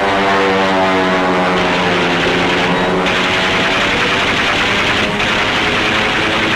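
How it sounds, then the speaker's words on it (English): Loud, continuous droning of propeller aircraft engines as planes attack a surfaced, wounded U-boat in the middle of a naval task group, with a steady harmonic hum and brief dips in the roar. "The planes open up first."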